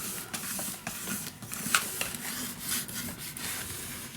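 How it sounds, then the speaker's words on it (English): A bone folder burnishes glued paper on a scrapbook album page, producing soft, irregular rubbing strokes with small scraping accents and one sharper tick midway, close and quiet, with no speech. "I'm just gonna burnish it down with a bone folder"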